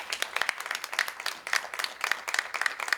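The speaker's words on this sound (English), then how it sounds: "So I just give them a round of applause." Attendees at a school board meeting clap, a moderately loud ripple of many hands in a quick, uneven rhythm that continues steadily for about three seconds, with no talking over it.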